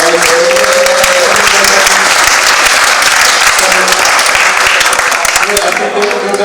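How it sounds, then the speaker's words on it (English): Loud, dense audience applause fills the room after a Q&A session at a rock music fantasy camp, holding steady for several seconds without a break. "Let's give a round of applause for"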